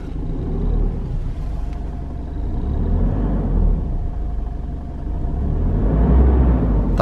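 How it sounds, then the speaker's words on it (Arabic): Exhaust of a 2018 Isuzu MU-X diesel, a deep, continuous rumble close by that swells slightly as the engine is revved, with no voices over it. "صوت البوري، اللي يحب صوت البوري."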